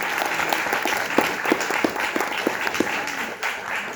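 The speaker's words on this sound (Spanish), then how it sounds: "Un aplauso, por favor" Audience applause for guests being called up onto a stage at the Escena Sur 2025 event, steady dense clapping with a few sharper individual claps standing out, continuous throughout.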